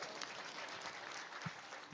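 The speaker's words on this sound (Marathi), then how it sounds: "यांच्यासाठी टाळ्या होऊन जाऊ द्या" An audience at a devotional kirtan gathering claps together, a dense, sustained wash of applause heard from within the crowd for the whole stretch.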